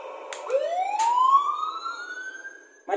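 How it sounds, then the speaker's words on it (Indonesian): Huina toy fire and rescue truck siren: a single electronic wail sweeping upward and sustaining, close and clear, bracketed by faint plastic clicks. "bila aku tekan ni, enjin tak berbunyi, siren berbunyi"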